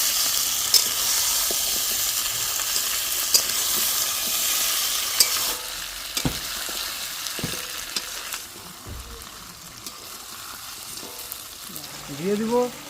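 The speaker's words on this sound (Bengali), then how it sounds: "দিয়ে দেব রসুন বাটা, আদা বাটা, কাঁচা লঙ্কা বাটা এগুলো দিয়ে কিছুক্ষণ কষিয়ে নেব।" Garlic, ginger and green chili paste sizzle hard in hot oil with chicken feet, stirred with occasional spatula knocks; the frying fades somewhat in the second half, and a brief voice-like sound rises near the end.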